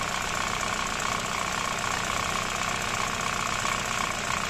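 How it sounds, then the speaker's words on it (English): An engine idles steadily during an ignition timing check, a continuous, even running hum with a faint rhythmic knock and no change in speed. "As you can see, right now it's at idle speed."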